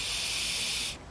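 Air blown through the float needle valve of a small engine carburetor, a short steady hiss that cuts off abruptly near the end.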